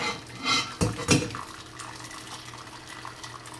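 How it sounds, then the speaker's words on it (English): Mushroom stock poured through a strainer into a large pot sitting in a sink, with clanks of metal cookware and a splashing, trickling flow of liquid, close by. "now we have the strainer set in the sink in a large pot so that the juices actually fall into the large pot"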